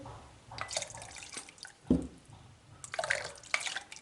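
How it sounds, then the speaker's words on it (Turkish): Water drips and trickles in short irregular bursts while kefir grains are rinsed by hand in a kitchen, with a few sharper splashes rising above a quiet background. "Kefirimizin mayasını almak için yıkadığım kefirin mayasını yıkıyorum."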